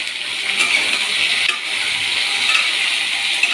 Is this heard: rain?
no